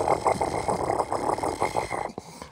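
A human voice mimics a Class 37 diesel locomotive engine, producing a rhythmic, throaty chugging rumble of rapid repeated pulses close to the microphone, tapering off near the end.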